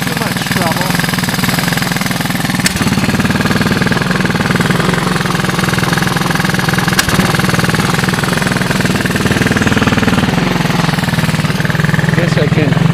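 A 1985 Honda ATC 200S three-wheeler engine runs steadily on a GY6 12-volt portable ignition, a loud, close, continuous rough chugging with a rattly idle throughout.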